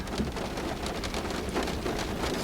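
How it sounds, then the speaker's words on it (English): Rain falls steadily at Cajon Pass in the Mojave, giving a dense, even hiss of drops hitting surfaces nearby, with no voices. "Well, it's raining."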